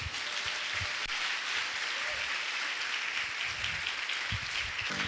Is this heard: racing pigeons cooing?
no